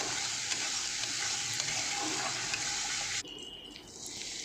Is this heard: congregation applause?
no